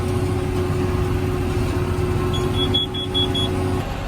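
A short series of high electronic beeps from a baler, signaling the bale is 90% formed, sounds over a steady, rumbling machine engine running throughout.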